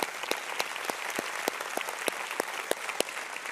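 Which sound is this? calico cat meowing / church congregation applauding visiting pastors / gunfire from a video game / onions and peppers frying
church congregation applauding visiting pastors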